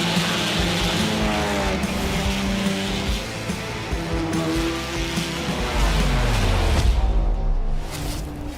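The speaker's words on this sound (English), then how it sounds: "A massive field of GT cars." GT race cars in the iRacing sim roaring together at a race start at Sebring, a dense continuous engine drone with rising and falling revs and brief tire squeal, loud and steady throughout.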